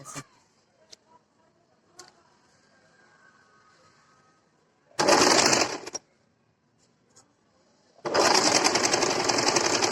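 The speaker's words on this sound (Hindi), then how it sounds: "और फिर हम इसके ऊपर से सिलाई करेंगे" A sewing machine stitches a kurti sleeve seam in two loud, steady whirring runs, one brief and one longer, after quiet handling of the fabric.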